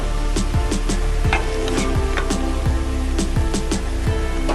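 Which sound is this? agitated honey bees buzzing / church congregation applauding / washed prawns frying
washed prawns frying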